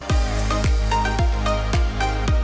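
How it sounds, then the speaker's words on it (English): Bright, ringing steel drum notes play a bouncy tropical melody over a steady bass pulse, loud and upbeat with no voices. "tropics, Caribbean, they hear those steel drums"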